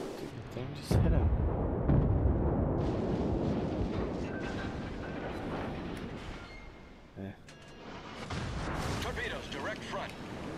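Heavy naval guns boom in World of Warships around the British Tier 6 cruiser Leander. Deep, rumbling reports and blasts roll on under steady spoken commentary, thick and moderately loud.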